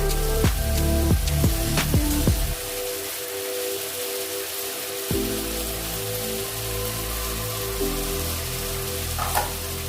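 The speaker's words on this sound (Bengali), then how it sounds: "এবার পেঁয়াজ টমেটোটা একটু কষিয়ে এলে আমি এর মধ্যে দিয়ে দেবো এই টক দইটা" Onion and tomato sautéing in oil for a Bengali katla fish kalia, with steady sizzling and frying, a few stirring clatters at the start and a brief quieter stretch in the middle.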